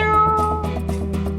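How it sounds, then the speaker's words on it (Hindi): A cat meows several times in quick succession during a scene from the Indian crime drama CID, the calls clear over a steady background drone. "आपने बिल्ली की आवाज सुनी थी ना?"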